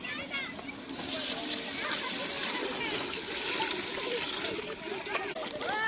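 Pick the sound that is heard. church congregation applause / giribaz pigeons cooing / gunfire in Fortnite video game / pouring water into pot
pouring water into pot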